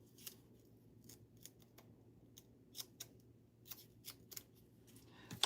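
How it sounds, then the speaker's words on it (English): Scissors snip through card in a series of quick, crisp cuts, irregularly spaced and close, in a quiet crafting room. "And my scissors."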